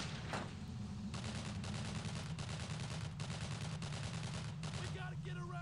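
Sustained gunfire in the WWII shooter Brothers in Arms: Road to Hill 30 during a firefight at a farmhouse: a steady, rapid stream of distant shots over a low rumbling battlefield bed, with a brief shout near the end.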